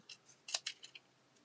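Scissors snip through paper while a holiday card is being cut out, a run of short crisp crunching cuts in quick uneven succession, close and fairly quiet with no voice.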